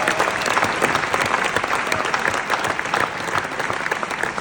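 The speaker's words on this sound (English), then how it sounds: "So a big round of applause for them on their own." Audience applause after a call to honour the crew and team at a Franchise of the Year 2024 awards event, steady dense clapping from a room of people, loud and sustained throughout without pause.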